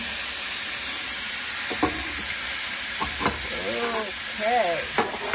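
Steak sizzling on a hot plate inside an RV at Valley of Fire near Las Vegas: a loud, constant frying hiss broken by a few sharp pops and scraping stirs, with no talk.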